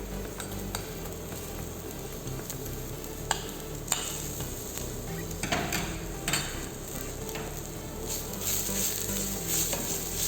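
Red and white cabbage sautéing in a pan for a cabbage and beetroot soup: a steady, close sizzle with scattered spoon clicks and scrapes against the pan, growing slightly louder toward the end.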